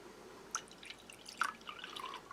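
Water is poured into a glass during a tasting of a Russian 24-hour hiking ration. It comes as a few light drips and trickles in short, quiet bursts with no talk.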